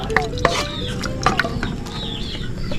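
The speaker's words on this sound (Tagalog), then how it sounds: "May sobrang pusit tsaka tahong. Hindi na kumasya dito, kaya ihalo ko na lang dito sa sauce." Leftover seafood broth with squid and mussels is stirred into a sauce in a pan, a close, continuous wet swishing and scraping with a few sharp utensil knocks against the pan.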